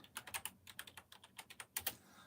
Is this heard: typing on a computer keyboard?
yes